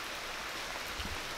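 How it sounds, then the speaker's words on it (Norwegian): Heavy rain falling outdoors beneath a tree, a dense, steady hiss of downpour with no distinct drops standing out, filling the whole clip at an even level and without voices. "nå så står vi under et tre, fordi det regner ekstremt mye"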